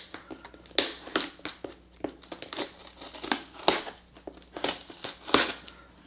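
Plastic or paper package packaging being torn and slit open by hand without scissors, a close series of sharp crinkling, ripping bursts and scraping crackles in an irregular rhythm, with no voices.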